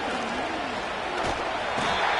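A stadium crowd roars loud and continuous at the Chiefs vs Texans AFC Championship football game, swelling slightly toward the end.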